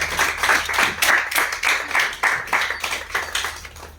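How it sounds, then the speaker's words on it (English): An audience at a bootcamp lecture claps in a quick, steady rhythm, the beats bunched close together, continuing for a few seconds. "Please clap."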